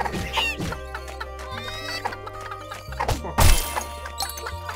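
Chicken clucking in the video game Secrets of Grindea: a string of sharp, close clucks over a low, steady game-music drone, with a loud smashing hit near the end.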